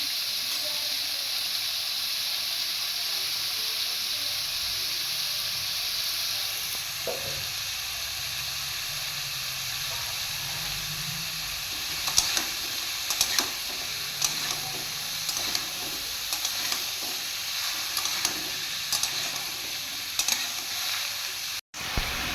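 Ridge gourd tipped into a hot pan for a prawn curry sizzles with a steady, bright hiss, and from midway scraping, clattering stirring strokes join the frying sound.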